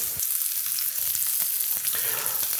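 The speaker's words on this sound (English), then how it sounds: "We're going to start searing this fat cap side down." A pork loin sears fat cap side down in a hot pan, a steady continuous crackling hiss with small pops scattered throughout.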